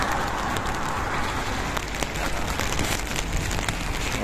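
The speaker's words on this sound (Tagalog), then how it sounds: "Ayan, ulan ngayon dito." Steady, dense hiss of rain pouring down, continuous and fairly close, with no voices.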